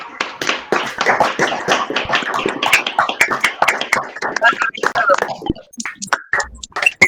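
An audience at an evening history conference applauds, with sharp, scattered hand claps that come close and fairly loud, then thin out near the end while murmured voices carry underneath.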